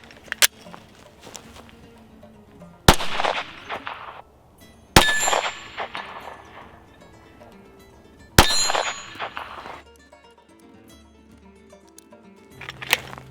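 A 9mm pistol fires several loud, widely spaced shots, each followed by the ringing clang of ejected brass casings landing and rattling nearby, with quiet gaps between shots.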